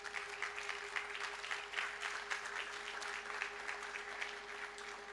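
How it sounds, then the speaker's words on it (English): A conference audience applauds the event teams, a steady wash of clapping filling the hall at moderate distance with a constant electrical hum beneath. "I thank you for giving an applause to the teams of your center"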